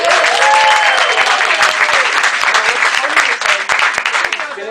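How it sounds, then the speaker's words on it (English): Loud, dense crowd applause at a radio station's Trick or Treat meet-and-greet, a sustained roar of clapping and cheering for Jeff Archuleta, with voices calling out over it. "How about a nice round of applause for Jeff Yeah. Archuleta?"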